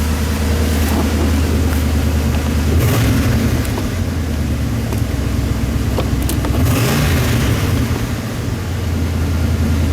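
A 1980 Jeep Grand Wagoneer SJ 4x4 with a 360 V8 runs at a loud, steady idle before warming up, its deep rumble continuous and close, with a couple of brief rises in engine note.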